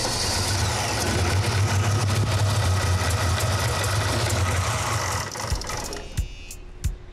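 A 1980 Chevrolet El Camino engine runs rough and uneven, with a steady low mechanical drone that sputters and dies out near the end, leaving a few faint clicks. No voices are heard.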